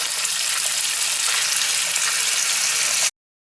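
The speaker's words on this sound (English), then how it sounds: "you are going to drain, and I like to rinse with cold water and ice to chill my pasta faster" Cold water, chilled with ice, rushes steadily over freshly drained, cooked bow tie pasta in a kitchen sink. The pour is close and loud, with no talking, and stops abruptly near the end.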